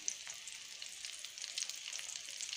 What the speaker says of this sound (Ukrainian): А тут у нас кабачки смажаться